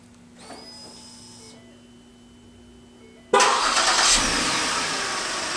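Remote start of a 2010 Ford Flex on a freezing day: a faint electronic chime and hum, then the engine cranks and catches abruptly, settling into a steady, fairly loud idle.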